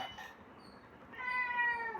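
An orange cat meows close by, a faint short call followed by a louder, drawn-out tonal meow in a quiet room, with no talking.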